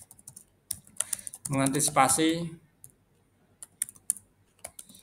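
Rapid clicking keystrokes on a computer keyboard, close and crisp, continuing around a brief stretch of speech in the middle.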